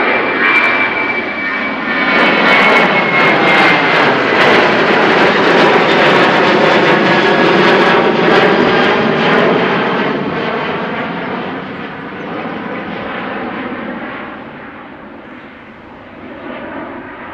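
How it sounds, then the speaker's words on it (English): A KLM Boeing 737 taking off at Amsterdam Schiphol Airport, its jet engines a loud sustained roar with a whining tone, peaking mid-clip and slowly fading as it climbs away. "Off to London it is for the KLM 737"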